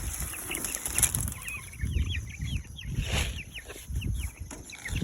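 A group of chickens, including a hen called in to a chicken tractor, clucks continuously nearby, their short calls overlapping in a restless rhythm, with some low rustling and faint movement underneath.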